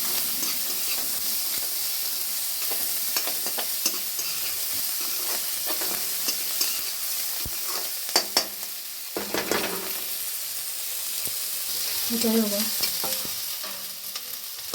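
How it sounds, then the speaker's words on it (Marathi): Finely chopped onion fries with garlic in a pan, a steady close sizzle and hiss joined by repeated stirring scrapes and clatters of a spoon against the pan. "आता यामध्ये आपण बारीक चिरलेला कांदा घालूया हा पण आपण गुलाबी रंगावर परतून घ्यायचा"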